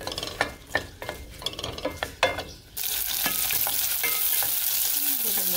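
Onion and two garlic cloves, for a red chicken pipián, frying in a pan with stirring: spoon scrapes and clicks first, then a loud, steady broadband sizzle as the onion and garlic hit the hot oil.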